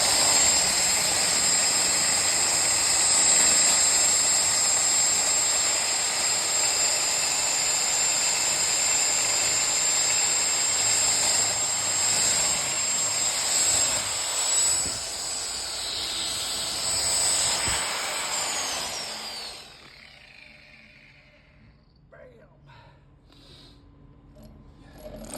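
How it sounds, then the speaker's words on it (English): VEVOR 2000-watt, 1800 rpm core drill boring through 6-inch hollow core, a loud steady high-pitched motor whine and grinding hiss that runs evenly for about twenty seconds, then winds down and cuts off, leaving quiet scattered clatter. "Drilling through 6-inch hollow core"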